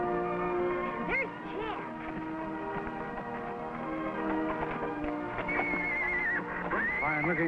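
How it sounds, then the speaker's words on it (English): A horse whinnies repeatedly, with rising and falling neighs over a steady background murmur and a few soft hoof taps. "Fine looking horse."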